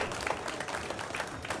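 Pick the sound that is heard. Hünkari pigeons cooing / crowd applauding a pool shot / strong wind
crowd applauding a pool shot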